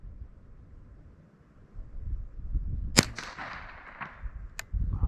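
A single sharp shot rings out from a Ruger 10/22 rifle at an outdoor range, followed by a short fading echo and a fainter crack, with wind noise rumbling beneath.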